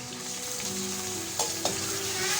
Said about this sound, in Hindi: अब हम इसमें 1 kg चिकन डाल देंगे